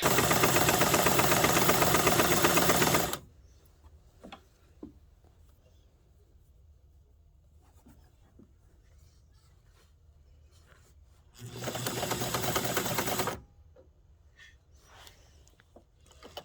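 A sewing machine stitches a hem in two loud, steady runs, one of about three seconds and a shorter one later, with quiet handling clicks and fabric rustles in between.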